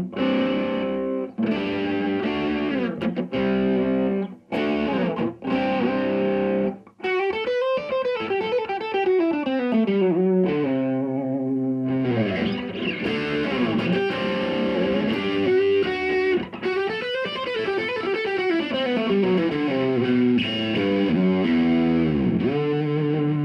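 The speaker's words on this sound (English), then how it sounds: "that demonstrates what preamp distortion sounds like" Heavily overdriven electric guitar through a tube amp with preamp distortion, playing sustained bends and chords, loud and continuous with a few brief pauses, thick and gritty throughout.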